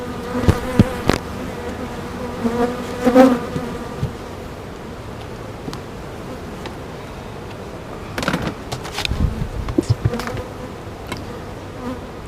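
Honeybees drone steadily around an open backyard hive, a close continuous buzz with a few louder passes of single bees near the microphone and faint handling knocks.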